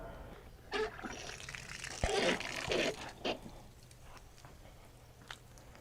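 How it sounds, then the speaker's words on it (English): Water gushes and trickles through plumbing after a water softener installation, a faint splashy flow with a few brief bursts, heard close by in a quiet room. "And I just heard water."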